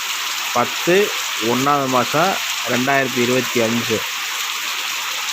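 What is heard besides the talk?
rain falling in Sengurichi village, Pandiyanur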